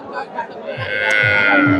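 Cows and calves moo loudly nearby at a cattle market in Bogura, Bangladesh, with a long, drawn-out low bellow that rises and holds over a busy outdoor background.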